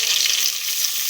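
Mint leaves sizzle steadily in hot oil in a pan, a close, continuous frying hiss with no talking.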